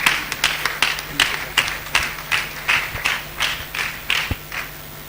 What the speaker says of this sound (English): A round of applause for him as he comes to take the podium.